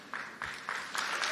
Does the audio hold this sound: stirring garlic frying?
no